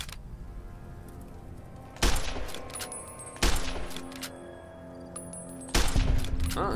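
Gunshots in Fallout New Vegas, three sharp loud cracks spaced a second or two apart, each followed by a short ringing tail over quiet game ambience.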